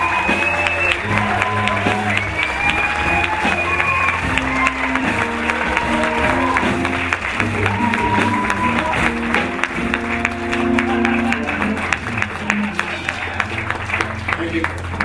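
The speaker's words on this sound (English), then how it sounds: "A big round of applause for someone who's game to take a chance and have some good times with us." Audience applause for actor Robert Downey Jr. at a Cinefamily telethon, steady clapping with crowd noise and cheers running the full length, mixed with voices and music-like tones.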